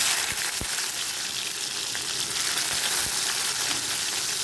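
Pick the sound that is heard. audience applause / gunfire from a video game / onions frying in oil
onions frying in oil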